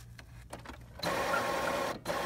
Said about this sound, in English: The cartridge is moved to the changing position.